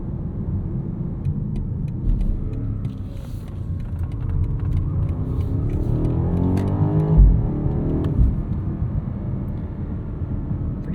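A 2023 BMW 760i xDrive sedan accelerating in sport mode at sunset: a deep, steady engine rumble heard from inside the cabin, rising in pitch as revs climb, then easing back, with light road noise underneath.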